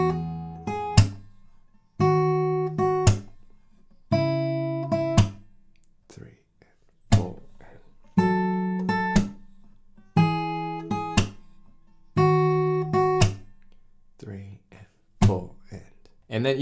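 Fingerpicked acoustic guitar plays the verse riff of a song, repeating plucked note patterns with sharp percussive slaps on the body between phrases, close and clear with no talking.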